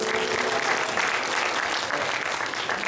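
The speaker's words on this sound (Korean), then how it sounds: "여기 우리 감독님 계신데 박수 한번 주고" A church congregation applauds during a Sunday worship service, a steady, dense clapping from the whole room that holds at an even loudness throughout without pause.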